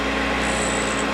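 Steady whirring grind of a grinding wheel against a metal drill bit being sharpened, continuous and fairly loud with a thin high edge, no voices.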